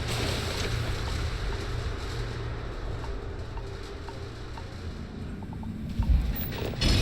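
A spaceship engine in the space game StarSim: Beyond Space gives off a steady, loud low roar with a windy, rushing texture. It holds almost unchanged throughout, and a brief thump comes near the end.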